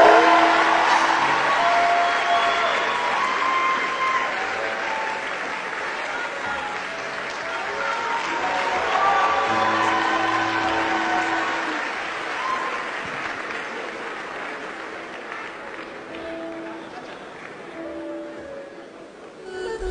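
An audience applauds warmly at a Cameroonian gathering, a sustained wash of clapping that swells and fades over about twenty seconds, with no voices on top.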